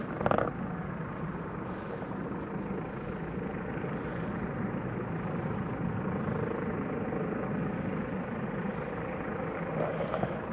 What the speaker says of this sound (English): you've got a helicopter literally hovering behind that boat.